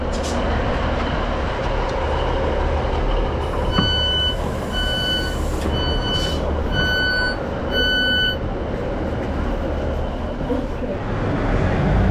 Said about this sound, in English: there's another 156 approaching going towards Kilmarnock just there